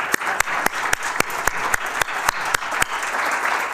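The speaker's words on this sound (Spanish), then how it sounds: "Creo que tenemos que darle un fuerte aplauso porque se lo ha merecido" Steady audience applause after a lecture on materials used in ancient Egyptian jewellery, a dense wash of hands with sharp, evenly spaced louder claps giving it a rhythmic pulse.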